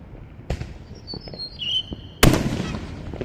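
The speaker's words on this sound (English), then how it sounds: "I'd just be like, yeah, it's fireworks" Fireworks from a city-wide show bursting far off, a few soft pops and thuds with a whistling rise early on, then a louder crackling burst near the end; distant and diffuse.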